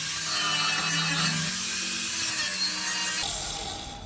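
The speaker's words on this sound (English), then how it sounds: "I'm just going to grind up this face here and here so I've got somewhere to weld a bracket on" A grinder works a steel face, cleaning it to weld on an intercooler bracket; the harsh abrasive grinding runs loud and continuous up close, then the tone shifts and eases off at the end, with no talking.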